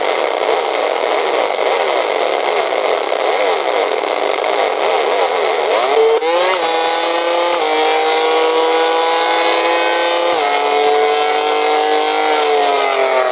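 Electronic engine tones from a 1980 Kenner Red Line racing game: a buzzy synthetic whine that sweeps up in pitch and then holds high like a funny car revving, loud and continuous without talk.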